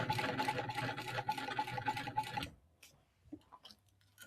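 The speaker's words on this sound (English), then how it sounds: "sew a couple inches or an inch and a half or so into my lining and then straight down" A sewing machine stitches through a bag lining in a quick, even run of mechanical pulses for about two and a half seconds, then stops. A few faint handling clicks follow in near silence.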